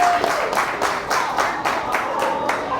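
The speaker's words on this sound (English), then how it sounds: "Please give him a round of applause." Audience at a Bowie State University scholarship fundraiser brunch claps in a brief burst of applause, steady rhythmic hand claps from a moderate-sized crowd, fairly near and unaccompanied by speech.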